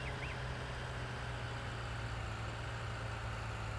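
A John Deere 7R tractor idling in the video game Farming Simulator 19, a steady, low engine hum with an even drone and no speech.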